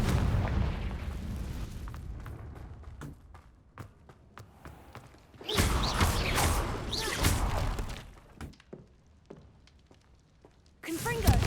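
Confringo fire spells in Hogwarts Legacy burst as repeated booming explosions, with a loud cluster in the middle and another at the end, mixed with footsteps and game sounds while a person talks.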